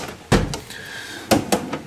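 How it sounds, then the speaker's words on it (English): A drawer of a mechanic's tool box slides open with a couple of short metallic clunks and a brief rolling scrape, close by and fairly quiet, with no talking. "Last drawer."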